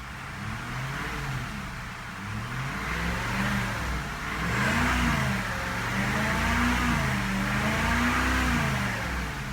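A 2002 Cadillac DeVille engine with 92,588 miles revs up smoothly, rising and falling in several steady, rolling waves over a continuous idle hum, close and moderately loud with no talking.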